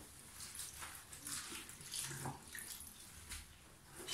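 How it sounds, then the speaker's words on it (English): Tap water runs steadily through a freshly shampooed wig being rinsed under a faucet, a continuous close hiss and splash with no talking. "run it under a tap again until the water runs clear"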